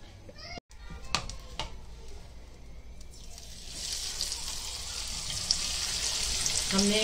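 Chicken pieces hitting hot oil and frying, a steady sizzle that swells and stays loud, with children talking and playing nearby and a few knocks and clatters early on.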